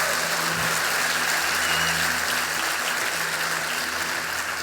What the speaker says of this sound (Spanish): Ahora dale un aplauso fuerte al Señor